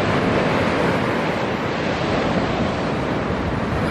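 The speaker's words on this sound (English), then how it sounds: "There's some white water on the sandbank." White water breaks on a sandbank at sea, a loud continuous wash of surf mixed with heavy wind buffeting the microphone, without any talking.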